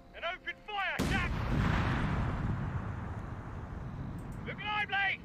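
Company of Heroes 3 battle, a heavy artillery blast followed by a long rumbling roll of gunfire and explosions, loud and close, with voices speaking just before and after.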